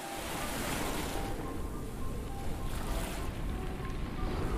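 Ocean waves wash under a sailing ship in an audio story, a steady broad rush of surf and wind with faint creaking tones, loud and continuous throughout.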